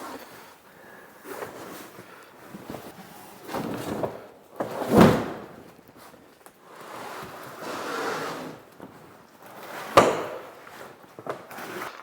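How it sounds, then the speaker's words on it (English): The front door of large plastic storage bins, rated to hold over 250 pounds, bangs shut twice with sharp woody knocks amid rustling handling noise, with no talk. "So this is the door for the front."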